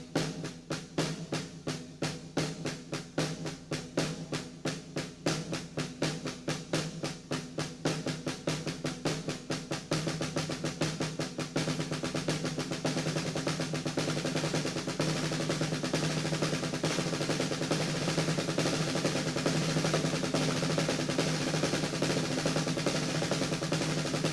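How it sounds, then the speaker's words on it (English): Drum kit played in a rapid run of even triplet sixteenth notes blended with half of a paradiddle sticking, dense, steady strokes that start crisp and separate, then build into a louder continuous roll, played alone. "a series of triplet 16th notes combined with half of a paradiddle figure"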